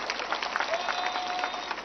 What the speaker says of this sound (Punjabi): ਤਾੜੀਆਂ ਮਾਰ ਕੇ ਹੌਸਲਾ ਵਧਾ ਦੇ ਕੋ ਥੋੜਾ ਜਿਹਾ